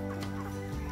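A loud, close chicken clucking on a small farm in a continuous low, throaty stream, filling the whole short moment with no talking.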